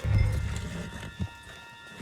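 Horse hooves clip-clop in Red Dead Redemption 2, a short burst of low thudding steps with a clearer single hoof fall near the end, moderately close and not under any talk.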